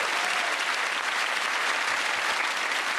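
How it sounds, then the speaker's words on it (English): A studio audience at a comedy panel show gives a round of applause, a loud, dense and uniform wall of clapping that holds steady from start to finish with no voices standing out. "I'll give that round of applause to Milton,"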